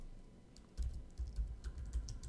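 Irregular keystrokes on a computer keyboard as C code is typed, a quick run of soft clicks and thumps close up with no voices.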